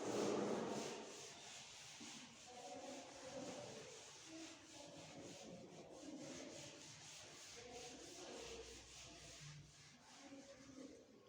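A table written on a classroom board is rubbed out, making a faint, continuous scrubbing and wiping that runs unbroken without talk.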